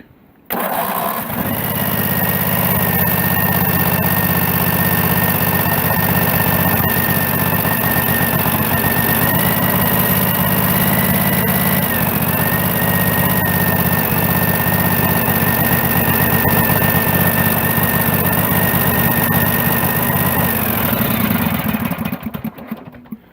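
A small engine, left unused with snow in the flywheel, cold starts after winter and settles into a steady loud idle that runs continuously for about twenty seconds before cutting off.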